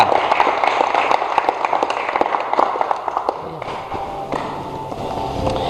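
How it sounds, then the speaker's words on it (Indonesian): A class group claps for team TK3, a burst of quick, uneven hand claps with sharp individual hits that thin out and fade toward the end, close and clear with no talk over it. "Tepuk tangan untuk kelompok TK3"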